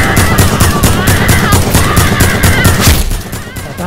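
Rapid automatic gunfire in a live-action Fortnite-style firefight: dense, continuous bursts of loud, close shots that run almost unbroken and ease slightly near the end.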